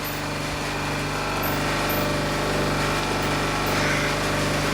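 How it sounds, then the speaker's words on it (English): An antique Kelvinator fridge compressor runs off a Mishto inverter, giving a steady, close mechanical hum with a constant low drone and faint high whine throughout, with no talking. "The compressor's running quite happily off an inverter."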